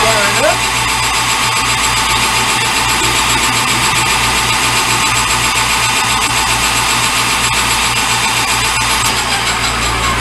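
A metal lathe facing the end of a workpiece gives a loud, continuous mechanical drone with a steady low rhythmic hum and a broad cutting hiss, unbroken throughout.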